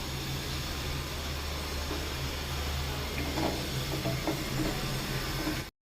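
Paneer cheese masala cooks in an oily pan with a steady, close sizzling hiss that runs unbroken for about six seconds before stopping abruptly.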